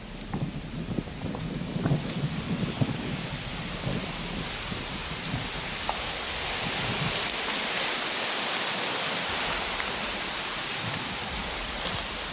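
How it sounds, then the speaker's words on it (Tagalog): Strong outdoor wind roars in a dense, rushing wash of noise with low rumbling gusts buffeting close by, swelling slightly partway through, with no voices. "Lakas yung hangin dito"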